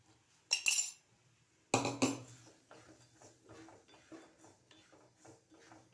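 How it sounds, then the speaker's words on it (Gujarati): Chickpeas are tipped into a pan of hot salt for roasting, giving two sharp rattling clatters followed by softer scraping and clinking as they settle. "હવે એમાં ચણા એડ કરીશું"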